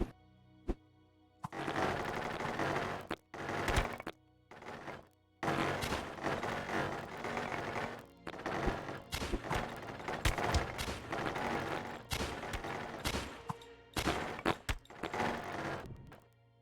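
Repeated bursts of gunfire in the survival game Keplerth, rapid stretches of rattling shots broken by short pauses, loud and close, with no speech over them.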